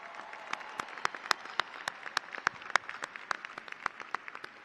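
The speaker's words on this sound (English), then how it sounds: "Let's give him a round of applause." Steady applause from a commencement ceremony audience at a university graduation, a wash of many hands clapping at a moderate distance, with sharper individual claps standing out against it.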